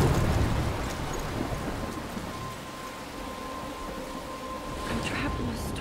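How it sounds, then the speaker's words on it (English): Thunderstorm in the video game Life is Strange: steady heavy rain and a low rolling rumble of thunder, constant and loud throughout. "I'm trapped in a storm?"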